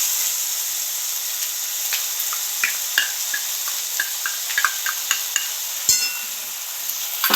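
Ground poppy seed paste being stirred into nearly cooked frying masala for a katla fish curry, a soft steady hiss with scattered light scrapes and taps of a spoon, one sharper knock near the end.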